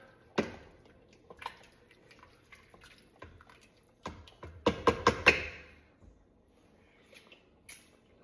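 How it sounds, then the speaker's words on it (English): A spoon stirring a pot of home-cooked dinner, heard as a few soft scraping knocks and wet squishes, with a quick cluster of clacks in the middle and quiet pauses between them. "And give it a good stir."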